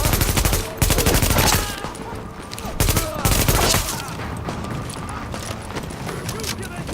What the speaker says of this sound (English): They're shooting everyone in sight!